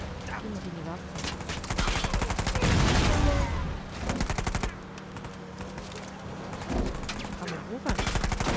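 Rapid automatic gunfire rattles almost continuously in the video game Uncharted 4, dense volleys of sharp shots near and loud with brief lulls, while a voice speaks over the shooting.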